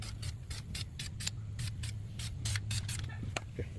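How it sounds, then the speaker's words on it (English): A spray can lays a light coat of primer onto a brake caliper in short hissing bursts, quiet and close, with small pauses between passes and no speech. "Now we're gonna start spraying it with light coat."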